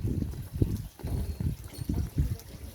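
Water pours and splashes into a trough in uneven gushing bursts, close by and moderately loud.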